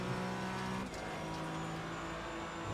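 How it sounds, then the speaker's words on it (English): A Porsche Cup race car in a racing video game drives past with a steady, loud engine drone. The tone drops slightly near the one-second mark as it goes by. "There goes Swindell's in the Porsche Cup."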